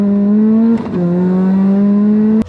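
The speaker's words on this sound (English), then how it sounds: "today I will be performance testing the Supercharged NB Miata" Supercharged NB Mazda Miata engine revving hard at a steady high pitch, dipping briefly before climbing again, loud and close, then cutting off near the end.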